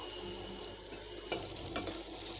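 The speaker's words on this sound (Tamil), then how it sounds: "இப்போ நம்ம ஒரு கிளாஸ் போல் தண்ணி ஆட் பண்ணிடலாம்." About a glass of water poured over mixed vegetables in a pot while making veg dum biryani, a steady rushing splash that runs continuously at moderate level with two brief louder splashes.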